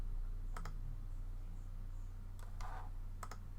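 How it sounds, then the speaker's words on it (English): A computer mouse gives a few sharp, close clicks, a quick pair and then a couple more, faint and set against a steady low hum with no speech. "I'll right click, click import"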